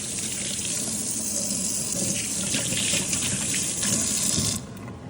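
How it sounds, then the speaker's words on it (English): Tap water runs steadily into a kitchen sink for hand washing while cooking cauliflower egg fried rice, a loud continuous splashing rush that cuts off abruptly near the end, with no talking. "Wash your hands."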